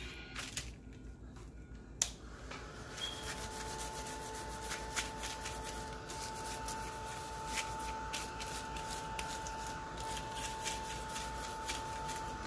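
Thin copy paper being folded over and creased with the blunt side of a tool, giving a steady close rubbing and scraping texture after a sharp initial crinkle, with no voices.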